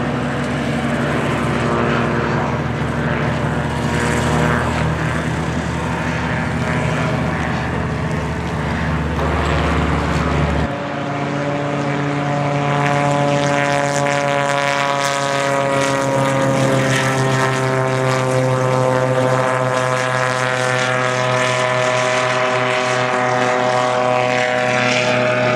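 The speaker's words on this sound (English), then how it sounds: "That little two-stroke right there is a little speed demon." Small two-stroke engine of a gyroplane flying overhead, a loud continuous buzzing drone with rising and falling pitch as it passes, no talk.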